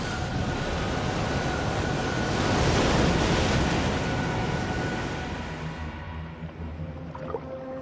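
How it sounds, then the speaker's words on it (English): A violent ocean storm with 200-mile-per-hour winds and 75-foot waves: a loud, continuous roar of wind and crashing surf swells to a peak, then eases toward the end, leaving a low rumble. "200-mile-per-hour winds and 75-foot waves will churn the massive ocean."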